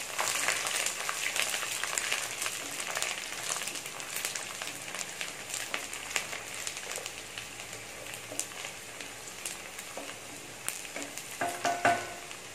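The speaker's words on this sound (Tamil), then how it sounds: "இது நல்லா வதங்கட்டும்." Garlic sautéing in a hot pan for a squid dry roast, a steady, fairly quiet crackling sizzle of frying oil with occasional stirring scrapes throughout.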